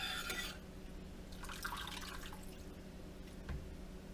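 Homemade chicken stock drains out in a faint, steady trickle of dripping liquid, quiet and close, with a few small splashes and clinks.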